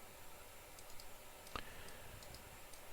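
A single sharp computer mouse click sounds faintly at close range against a quiet room hiss while drawing a profile in Catia V5 software.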